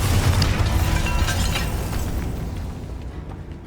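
A Bombarda explosion spell in Hogwarts Legacy goes off with a loud booming blast up front, then a long rumbling tail of debris and crackle that slowly fades away.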